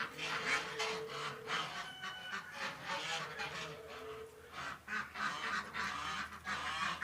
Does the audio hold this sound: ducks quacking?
yes